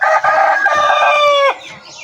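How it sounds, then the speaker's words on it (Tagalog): A backyard rooster crows loudly and close by in one long, strained call that ends abruptly, with a faint high whistle-like trail after it and no talk. "Yung mga manok sila dito guys."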